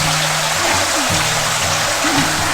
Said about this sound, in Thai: น้ำตกเราเสียงจะกระหึ่มมาก